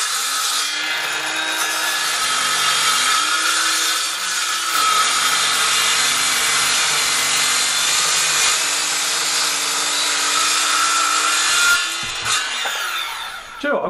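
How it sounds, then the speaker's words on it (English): A circular saw rips steadily through a clamped door being trimmed for rehanging, one continuous loud cut of about twelve seconds that winds down at the end, with no talking. "so I'll be using this circular saw a lot more for this sort of application"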